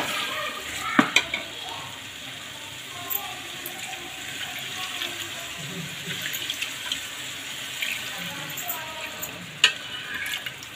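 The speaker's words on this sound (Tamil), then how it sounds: "கறி வேகிறதுக்கு நம்ம தண்ணி ஆட் பண்ணிக்கணும்." Water pours steadily into a pot of chicken curry cooking for biryani, a continuous splashing stream with a few sharp clinks of utensils against the pot.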